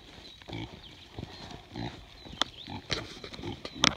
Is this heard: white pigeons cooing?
no